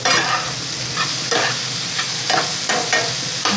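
Bell pepper and pea curry sizzles steadily as it fries on high heat, with a spoon scraping and stirring through it in several short strokes over the continuous frying hiss.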